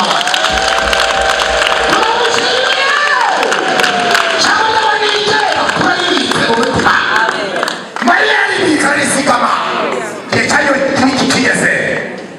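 A church congregation claps and cheers loudly, with whoops and rhythmic clapping mixed with singing and shouted voices throughout.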